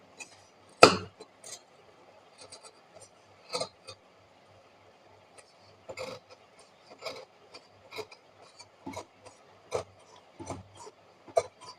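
Scissors snipping through canvas fabric while a churidar neck pattern is cut for tailoring: a string of short, dry rasping cuts at irregular intervals, close and fairly quiet, with no talking.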